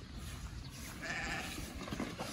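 Sheep bleat softly at feeding time on a farm in Cagayan de Oro, Mindanao, with one faint bleat standing out over a low rustling background.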